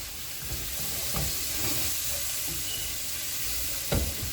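Sliced onions with salt and turmeric stirred in a hot pan, a continuous sizzle with scattered scraping stirs and a louder clank near the end.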